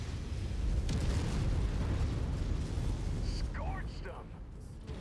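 Heavy artillery explosions in a war video game rumble as a continuous deep, booming roar across the whole stretch, with faint game chatter mixed in.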